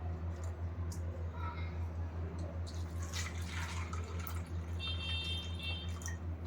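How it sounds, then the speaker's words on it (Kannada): Drinking water is poured over washed peas to soak them. It makes a faint, steady trickle and splash over a constant low electrical hum, and no one speaks. "ಅದಕ್ಕೆ ಇವಾಗ ನೀರು ಹಾಕೋತೀನಿ."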